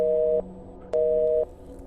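Two beeps of a phone busy tone after a call is cut off, each about half a second, separated by a short gap, steady and clear over a low hum.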